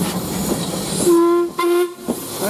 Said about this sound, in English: Right, up whistle please.